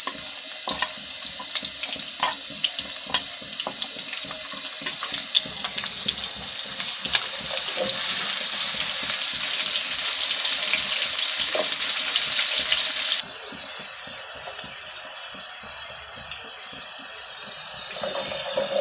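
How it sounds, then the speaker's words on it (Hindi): Onions and white cumin seeds sizzle in half a cup of hot oil for a baingan fry. The loud, continuous frying hiss swells midway, then drops back to a steadier crackle, with no talking. "ये देखिए, प्याज डाल देंगे और ये सफ़ेद ज़ीरा।"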